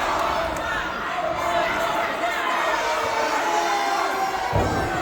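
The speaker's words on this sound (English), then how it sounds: "The crowd, the fans are saying they want it one more time." A wrestling crowd at a PPW PowerSlam event cheers and chants in a steady roar throughout, with a commentator talking over it and a brief thump near the end.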